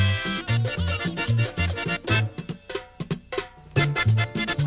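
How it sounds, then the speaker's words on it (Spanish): Caja vallenata drum played alone in a guaracha rhythm, crisp hand strikes in a quick repeating pattern of low booming tones and sharp slaps, close and clear with no voices. "La guaracha suena así."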